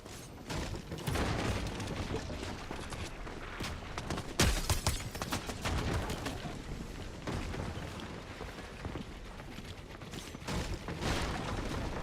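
Hand cannon gunfire in the video game Destiny: a dense run of sharp, punchy shots and mechanical clatter crowds the mix throughout, with a heavy blast near the middle, loud and close, with no talking.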